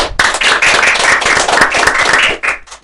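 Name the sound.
clapping for the school principal and department head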